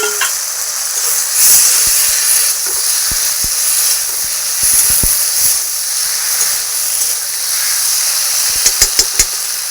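Potatoes and pointed gourd tipped into a hot pan of sizzling spice masala for a vegetarian banana-flower curry, giving a steady hiss with scattered crackles and a few sharp clinks near the end.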